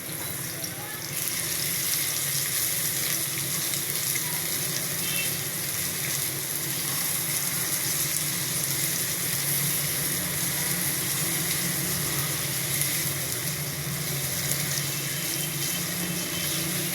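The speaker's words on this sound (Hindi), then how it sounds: "ये 1/2 कप मैंने ऑयल डाला और इसमें प्याज शामिल कर दिया।" Chopped onions frying in a pan of ghee and oil give a continuous, fairly loud hiss and crackle that runs steadily for the whole stretch, without stirring breaks or voices.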